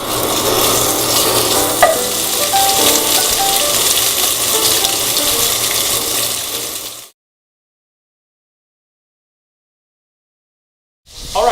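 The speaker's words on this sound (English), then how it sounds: "I've got 2 strips of bacon. And I just want to get those into a hot pan." Two strips of bacon sizzle and crackle in a hot pan, a loud steady hiss with small pops for about seven seconds, then sudden silence before the sizzling returns briefly.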